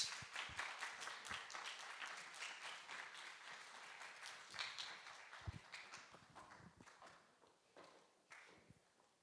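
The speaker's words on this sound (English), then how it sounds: "So give them a round of applause, please, as they exit the stage." An audience gives panelists a round of applause as they leave the stage. The clapping is faint and sparse, with scattered individual claps that thin out and fade toward the end.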